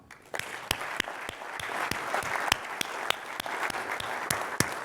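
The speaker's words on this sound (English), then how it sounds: "a round of applause, please, for Lord Finkelstein" Audience applause for Lord Daniel Finkelstein at an SMMT conference speech, a steady dense wash of clapping that starts abruptly after a moment of quiet and holds evenly throughout, with a few sharper individual claps standing out.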